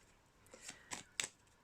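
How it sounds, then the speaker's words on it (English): Tarot cards riffle and snap through a few quick shuffles, three or four crisp bursts ending in a sharper flick, faint and close in a quiet room. "I might just shuffle one more time"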